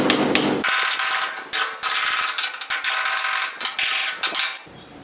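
A hammer strikes a cold chisel to crack a sealed ball bearing off a trailer wheel hub, giving a rapid series of sharp metallic taps close up, about a dozen hits in quick irregular bursts.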